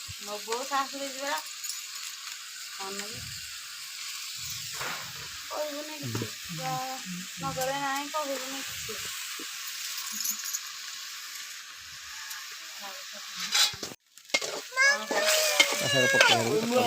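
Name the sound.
chickpea greens (chana saag) frying in a pan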